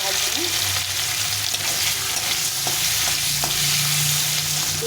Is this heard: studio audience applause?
no